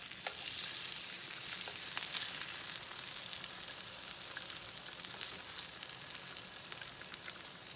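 Salmon fries in a pan, giving a steady, close hiss and crackle of sizzling oil that carries on without a break.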